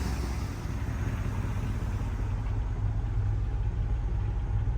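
A truck engine runs steadily after being started from a jump starter with no battery connected, giving a loud, continuous low rumble with no break.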